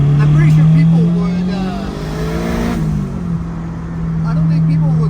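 A Spoon Sports Honda S2000 engine revs loudly and close, its pitch climbing and falling through sustained pulls, with a voice talking over it.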